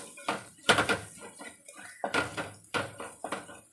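A spoon scrapes and clanks around a pan of Kerala-style crab roast that is sticking to the bottom, in close, uneven bursts of metallic stirring.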